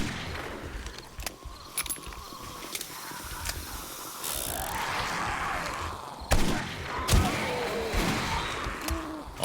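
Sharp gunshots crack out in the zombie survival game 7 Days To Die, scattered single reports at irregular intervals over busy game noise, with a few louder blasts near the end.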